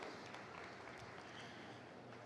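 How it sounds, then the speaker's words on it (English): Crowd applause at a state fair junior breeding heifer show, honoring Hereford heifer exhibitors in the ring; brief, steady, fairly faint clapping from spectators that stays even throughout, with no voices over it. "let's give all these Hereford exhibitors a nice round of applause"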